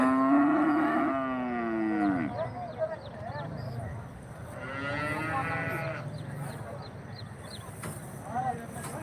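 Cattle and buffalo at a rural livestock market in Bagalur, with drawn-out mooing calls rising over a busy background murmur of crowd voices and movement.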